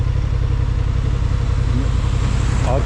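A motorcycle descends a steep ramp under braking, its engine a constant loud close rumble with some clattering throughout.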